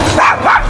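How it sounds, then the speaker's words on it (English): A dog in the video game Assassin's Creed Syndicate gives two quick, loud barks close by, with no talking over them. "dog will bark when we're getting people's attention"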